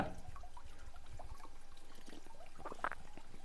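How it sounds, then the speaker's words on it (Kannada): Water trickles drop by drop from a spout shaped like a bull's mouth at the Hemavathi river source, a soft, steady, faint dribble with scattered small drips and no voices. "ಹೇಮಾವತಿ ನದಿಯ ಉಗಮ ಸ್ಥಾನ ತೊಟ್ಟ ತೊಟ್ಟ ಗಿಣುಕ್ತಾ ಇದೆ ಬಸವನ ಬಾಯಿಂದ"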